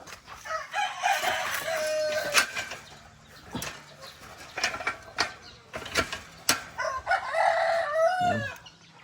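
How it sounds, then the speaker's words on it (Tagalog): Chickens in a farmyard crowing and clucking, with sharp calls rising and falling over scattered clanks and knocks, fairly close and uneven in rhythm. "ang ating mga manok yan"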